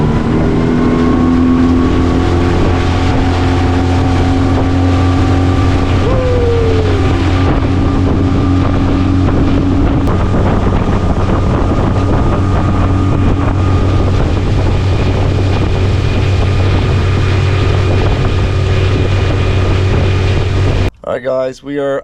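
A motorboat engine runs steadily on open water, a loud continuous drone with stable harmonic hum and wind buffeting the microphone, carrying on for about twenty seconds before a brief break at the very end.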